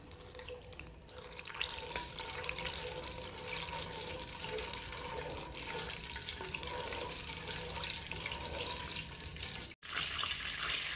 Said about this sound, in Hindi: और मैं ऑयल विच नमक पावांगी।